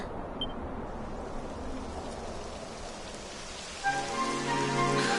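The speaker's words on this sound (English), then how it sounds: "It would have to go and start raining, wouldn't it?" Steady rain hisses throughout in the video game Dragon Quest XI, joined near the end by a brighter synthesized musical tone with sustained harmonic notes.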